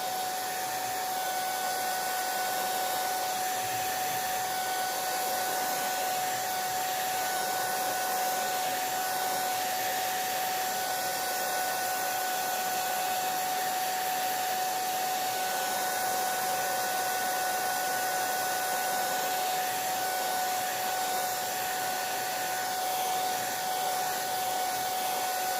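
A hair dryer blows continuously and loudly close by, a steady whooshing drone with a constant whine that holds unchanged for the whole stretch, with no voices.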